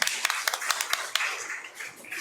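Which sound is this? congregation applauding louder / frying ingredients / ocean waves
congregation applauding louder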